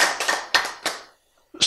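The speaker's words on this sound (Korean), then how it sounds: "소리를, 박수를 세게 치는 게 좋겠습니까?" At a health lecture, a few loud, separate bursts of hand clapping ring out in an uneven rhythm, with a short silent gap before a final burst.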